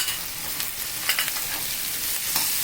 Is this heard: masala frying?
yes